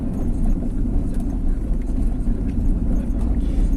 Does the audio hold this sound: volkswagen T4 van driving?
yes